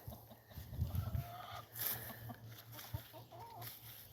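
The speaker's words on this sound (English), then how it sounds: "the chickens in the garden," Chickens clucking in a backyard garden, a few soft calls rising over quiet outdoor background noise, moderately near and fairly faint.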